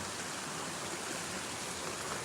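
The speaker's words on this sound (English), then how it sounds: "the sound of running water is much better than the sound of my voice." Water runs steadily near Kurama Station in Kyoto, a continuous soft broadband rush like a nearby stream, even and unbroken throughout with no talking over it.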